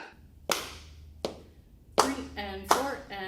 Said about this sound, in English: 2, ready, clap.